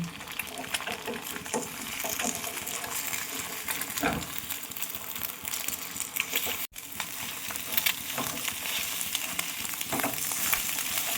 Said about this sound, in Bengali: ডিমটাকে এবার ভালো করে ভেজে নিতে হবে